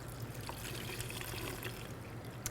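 Water poured from a container into a vase holding a rose arrangement, a quiet steady trickle and splash with no talking.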